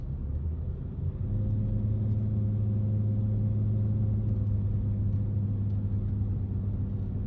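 Old Range Rover engine droning while driving, a constant low rumble with steady road noise filling the cabin, unbroken and fairly loud throughout.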